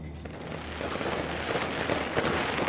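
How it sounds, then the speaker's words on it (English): Firecrackers going off in the video game Nine Sols, a continuous dense crackle of rapid small bursts filling the whole stretch at steady loudness, with no talk over it. "And let me see, firecrackers."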